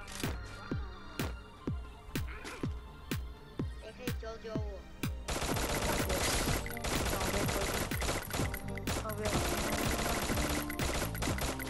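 Gunfire in the mobile battle royale game Free Fire: a string of single sharp shots at first, then a dense continuous barrage of rapid automatic fire, loud and close, with a voice talking over it.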